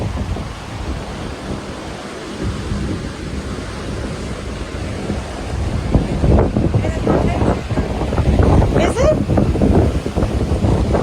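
Strong tornado wind roaring past a house and shop, recorded in phone footage: a continuous, rough, buffeting rush of wind noise battering the microphone, growing louder and gustier in the second half.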